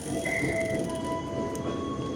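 Rumbling noise of a busy train station at 5 am, with continuous rail and crowd din, faint squealing tones and a brief high screech.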